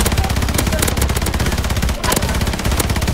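Rapid automatic gunfire in the video game Warzone, dense continuous bursts with a brief pause near the two-second mark, loud and close throughout.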